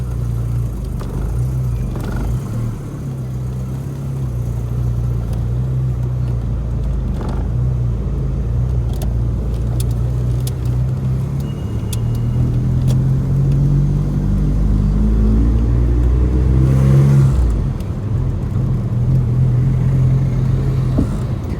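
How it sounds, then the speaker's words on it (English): A 40-year-old Vauxhall Cavalier runs in an underground car park, its engine and exhaust giving a steady, deep, echoing rumble, with one rising and falling rev partway through before it settles back to idle. "we're just going to start the engine up"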